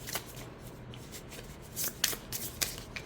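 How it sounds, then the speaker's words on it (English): A deck of affirmation cards is overhand shuffled with several quick, crisp riffling bursts close by, quiet between strokes and with no talking. "personally I do prefer to overhand this deck"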